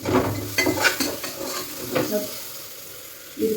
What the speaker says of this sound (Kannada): ಒಂಚೂರು ಸಿಮ್ಮಲ್ಲಿ ಇಟ್ಕೊಂಡು ಫ್ರೈ ಮಾಡ್ಕೊಳ್ಳಿ